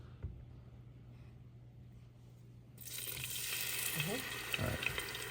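Batter poured into hot frying oil, a sudden broad sizzle that starts partway through and holds steady and fairly close after a quiet stretch with low hum.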